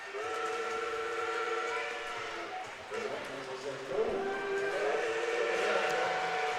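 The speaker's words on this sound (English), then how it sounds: "I believe that is the holiday train run by Oaks Park" The Oaks Park holiday train blows its whistle, a long, sustained tonal blast heard at some distance with a second rising blow, while people talk over it.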